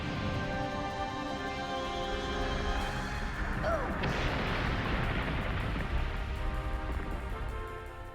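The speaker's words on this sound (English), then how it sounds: "he launches a missile at one of you and wipes them out" Video game Skies of Arcadia, where a boss fires a missile from his hand cannon: a heavy booming blast and rumbling explosion under game music, fairly loud and sustained.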